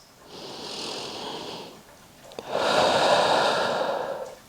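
Two long, deep breaths drawn into a resistance band wrapped tightly around the torso, each a soft, breathy rush lasting a couple of seconds, the second louder and fuller, close and alone with no talk.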